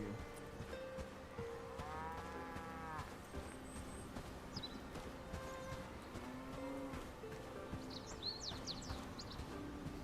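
A cow in the video game Bellwright moos in a few drawn-out calls against a background of game ambience, with faint bird chirps near the end.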